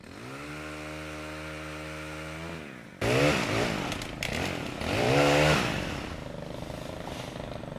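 Chainsaw cutting away the lower branches of a street tree, a steady idling drone that jumps into loud, surging revs as the saw bites through limbs, rising and falling several times close by.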